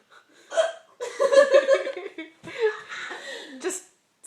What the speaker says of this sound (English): This is the 5th time today you've had hiccups.